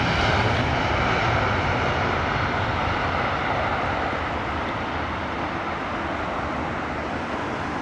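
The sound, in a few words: Lufthansa airliner taking off at Heathrow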